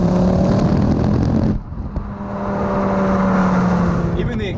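A Ford Focus ST engine pulls hard under acceleration on an open road, its loud steady drone dipping briefly as the gear changes before building again as boost comes in, with a voice speaking over it.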